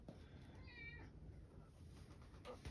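A house cat gives a single short, faint meow amid quiet room noise.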